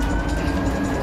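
Ambulance siren in the video game Watch Dogs, a steady wailing tone sounding continuously over a dense, rumbling city-traffic background.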